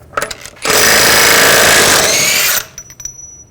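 A power tool with a 36mm 12-point socket spins off the rear axle nut on a 2006-2010 BMW 550i, a loud sustained two-second burst of buzzing hammering between short quieter clicks.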